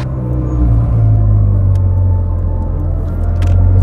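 A Ferrari with a straight-pipe exhaust rumbles loudly up close, the engine revving and pulling hard under acceleration in one sustained, deep roar with no talk.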